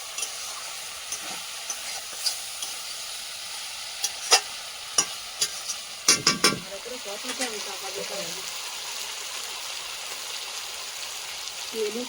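Spice masala is stirred and sautéed in a pan on a new stove, a soft, steady sizzle broken by scattered scrapes and clinks of a spoon against the pan, with some quiet voices in the background.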